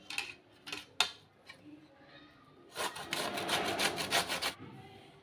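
Cabbage rubbed against a hand grater for dry veg manchurian, with a few scattered scrapes at first and then a quick run of steady, close rasping strokes.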